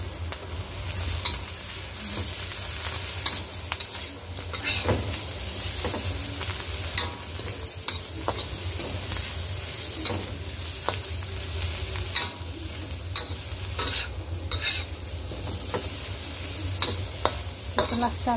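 Chopped chilies salted and stir-fried with rebon shrimp in a pan give a steady close sizzle with repeated scraping stirs and clinks, continuous for the whole stretch with no talk.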